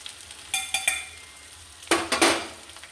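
Pickle powder is tipped into frying seer fish pickle and stirred through, giving two short clusters of scraping, sizzling stirs in a pan, close by with quiet gaps between.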